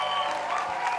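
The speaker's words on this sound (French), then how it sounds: "Je vous demande encore de les applaudir" Audience applause on a French-language TV variety show, a brief burst of clapping and crowd noise with a steady music tone and some voices running through it.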